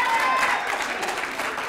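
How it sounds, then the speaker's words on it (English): A church congregation claps their hands during a sermon by an archbishop, a steady, dense wash of applause lasting throughout, with voices faintly mixed in. "can you clap your hands and tell the Lord"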